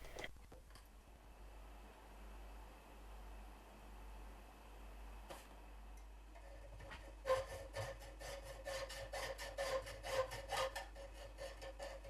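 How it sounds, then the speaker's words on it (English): A hand hacksaw cuts metal in a workshop, the rhythmic back-and-forth rasp of its strokes starting after a quiet stretch and growing steadier and louder over a low hum. "I don't know what I'd do without my hacksaw."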